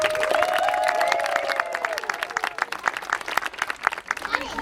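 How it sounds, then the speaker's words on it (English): Applause from a crowd, dense clapping with a voice speaking over it at the start, fading slightly toward the end. "round of applause"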